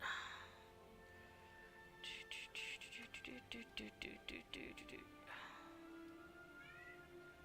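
Boy cat howling for attention, a drawn-out series of loud, close, repeated yowls and meows, with quieter caterwauling at the start and end over faint background hum.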